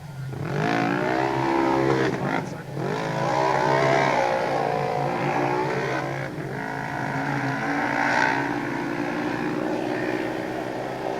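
Loud monster truck engines roar and rev continuously as the trucks race an obstacle course at a Monster Jam World Finals competition, the motor pitch rising and falling with a crowd-like wash underneath.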